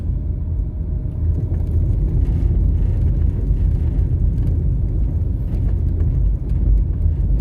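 Car driving through an upscale residential community in Kingston, Jamaica, heard from inside as a steady, close engine and road rumble with continuous tyre whir and no talking.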